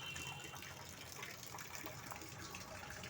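Water from a full rooftop tank spills over in a faint, continuous gush, an even rushing stream with no breaks.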